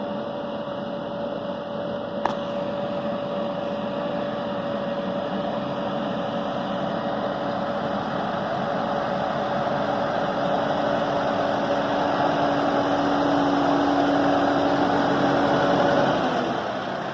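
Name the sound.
tractor engine running during a ride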